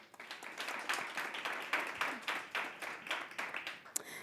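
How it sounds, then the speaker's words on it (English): Audience applause at a women's conference panel, a dense spread of steady clapping from a sizeable crowd lasting about four seconds, moderately loud and fairly close, with no talk over it. "Let's give her a round of applause."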